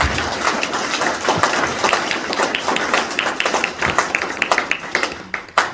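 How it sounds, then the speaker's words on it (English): Conference audience gives a round of applause after a hemp farmers panel, dense close clapping from many hands that holds steady for several seconds before thinning out. "can you give a round of applause for this?"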